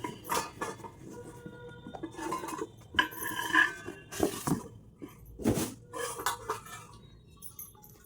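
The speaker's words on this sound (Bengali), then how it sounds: "এই যে এই স্টিলের কড়াইটা এখন দেখছি সবাই ইউজ করছে, তো সেই জন্য আমিও নিয়ে নিয়েছি। তোমাদেরকে খুলে দেখাই।" Metal clatter and clinks as a heavy steel wok (kadai) and its lid are unpacked and handled indoors, with several sharp knocks and scraping sounds spread through the clip, close and moderately loud.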